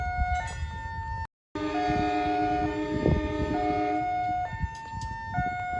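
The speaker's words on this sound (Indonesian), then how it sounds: "kereta api Mutiara Timur persiapan berangkat dari jalur 1 stasiun Probolinggo" A multi-tone train horn sounds in stepped, sustained chords as the Mutiara Timur passenger train prepares to depart track 1 at Probolinggo station, cut by a brief gap, with rumbling engine noise underneath.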